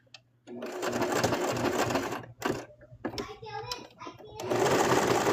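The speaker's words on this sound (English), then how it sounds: "Sew down one side." Sewing machine stitching a small plush, quick mechanical whirring in several runs separated by short pauses, close and clear, with a voice talking during one gap.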